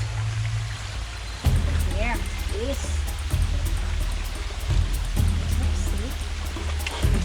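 Creek water flowing through the Mt Glorious rainforest in Australia after recent rain, a steady trickling stream heard up close under people talking briefly.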